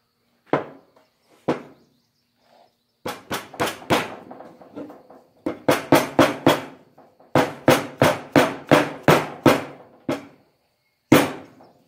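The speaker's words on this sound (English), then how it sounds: "So that is for a wedge, and that spreads that out, keeps the hammer head from coming off." A hammer drives a wedge into a wooden hammer handle to spread it inside the head: sharp, loud metallic strikes, a few spaced blows and then quick rhythmic runs, close up with no talk.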